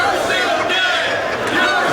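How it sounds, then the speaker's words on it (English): A jam-packed wrestling crowd in Houston at an ROH Supercard of Honor event, roaring and chattering as a steady, loud wash of voices throughout. "Jam-packed crowd here in Houston this evening."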